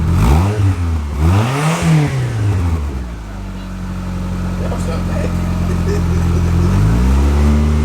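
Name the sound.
Mitsubishi Galant engine revving with Eclipse exhaust, silencer removed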